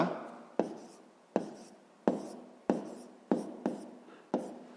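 Handwriting on paper while working a fifth-grade math exercise: a series of sharp pen strokes, roughly one every three-quarters of a second, each fading quickly, close and fairly quiet with no voices.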